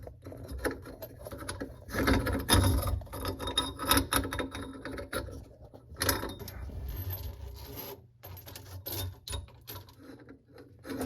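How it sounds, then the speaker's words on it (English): Metal mounting ring being screwed clockwise onto a garbage disposer sink flange under a Kohler sink, producing close, continuous scraping and grinding rubs with small metallic clicks. "So I'm just screwing this in clockwise."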